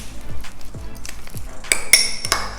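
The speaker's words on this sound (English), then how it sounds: "Mix it together nicely" A dip of mustard sauce, mayonnaise, salt and pepper is stirred with a utensil: a steady, rhythmic series of soft scrapes, ending in a few bright clinks against the container, close up and with no voices.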